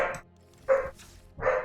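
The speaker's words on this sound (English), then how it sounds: "Again, I apologize for the dog" A dog barks three times indoors, sharp and close, with pauses of about half a second between barks and quiet in between.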